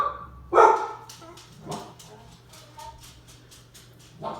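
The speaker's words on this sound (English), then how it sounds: "my dogs are going crazy" Pet dogs bark indoors, starting with one sharp, loud bark followed by a scattering of softer barks and yips, while a person speaks over them.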